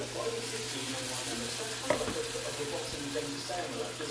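Chickpeas fry in a pan with onion, green chili, turmeric, chili powder and cumin, making a soft, steady sizzle with a low hum beneath and a single light clink partway through.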